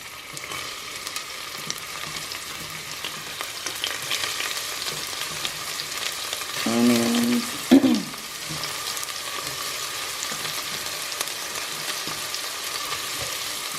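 Onions fry in oil for a pork stew, producing a continuous hiss and crackle of sizzling throughout, with a brief louder burst of stirring or a tool clink partway through and no speech.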